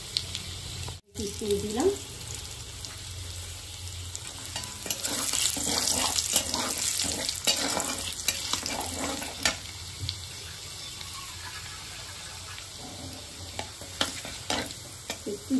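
Chopped banana flower sizzles in a hot pan while a utensil stirs and scrapes it in busy bursts, and a voice briefly speaks over the cooking.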